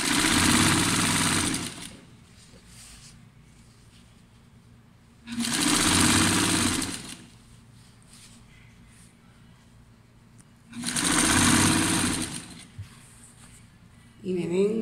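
A sewing machine stitches a blouse seam with a 1 cm allowance in three loud, whirring bursts of about two seconds each, separated by quieter gaps where the motor idles and a faint hum remains.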